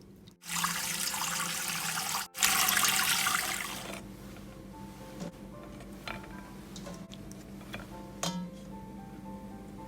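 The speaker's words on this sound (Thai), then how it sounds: "เราก็เอามาล้างนะคะประมาณสามสี่น้ำเหมือนกันนะคะล้างให้สะอาดค่ะ" Mullet milt rinsed under running water in a sink: a loud rush of pouring water for a few seconds, then softer splashing with light clinks of a bowl.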